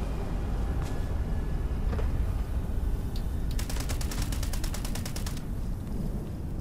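Automatic gunfire in the video game Fallout 76 bursts out midway as a rapid run of loud, evenly spaced shots lasting about two seconds, over a steady background of game ambience.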